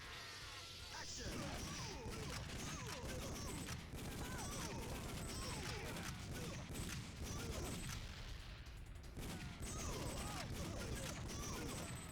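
Rapid bursts of light-gun arcade gunfire from Time Crisis, dense and continuous over a loud game soundtrack, with short pauses between volleys and voices in the mix.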